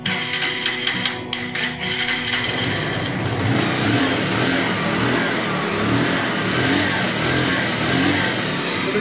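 A 2020 motorcycle with 48,000 km on it, kept in fresh condition, starts and revs loudly at close range, its engine climbing into a sustained, roaring growl that holds steady for several seconds with no talk.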